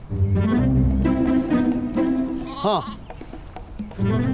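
A lamb at a village farm bleats in a single short, wavering call, close and clear, set between stretches of people talking.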